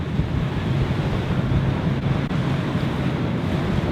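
High sea waves churn around mackerel fishing boats at sea, a constant loud roar of surf mixed with wind buffeting the microphone, with no voices.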